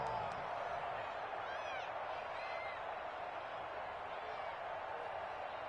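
Football stadium crowd roaring steadily ahead of a big third down, a broad continuous wash of cheering with scattered whoops, heard from a distance with no clear voice on top.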